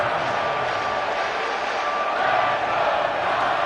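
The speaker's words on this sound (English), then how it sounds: "This crowd turning up the decibel level." Roaring crowd noise fills a football stadium during a Seahawks game, a dense, steady wash of cheering that holds at full strength for the whole stretch with no clear voices on top.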